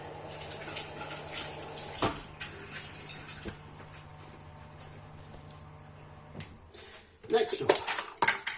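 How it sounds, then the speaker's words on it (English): Tap water runs steadily for a quick hand rinse in a home kitchen during breakfast sandwich prep, a soft continuous wash with a louder splash and a few clatters near the end. "let me just give my hands a rinse"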